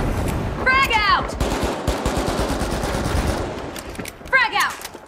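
Rapid automatic gunfire rattles in bursts during a match of the video game The Finals, sharp and close, with a voice shouting callouts over the shots.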